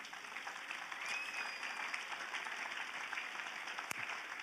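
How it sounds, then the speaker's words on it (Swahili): Sustained applause from a church congregation during a sermon, a steady broadband wash of many hands clapping together at moderate distance, lasting throughout without pause. "Wapi makofi kwa Yesu?"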